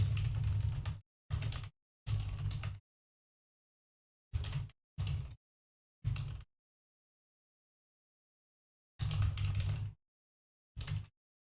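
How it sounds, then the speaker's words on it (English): Bursts of typing on a computer keyboard, short clusters of rapid clicks separated by silent pauses, close and fairly quiet, with no voices. "Typing!"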